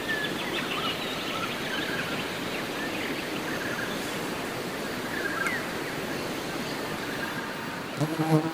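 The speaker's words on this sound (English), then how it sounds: "Anyway, the flies are already up." Flies buzz outdoors at first light at a bush campsite on the NSW Tablelands, a dense steady hum of insects with a few individual buzzes passing close, and a brief knock near the end.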